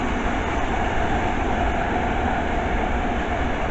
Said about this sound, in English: the next one passed by is another London Underground Met line